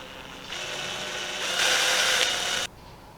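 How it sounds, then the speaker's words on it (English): A power drill bores into a plastic panel, whirring in a steady burst, rising in pitch and loudness as it bites, then cutting off abruptly. "Slowly does it with a drill."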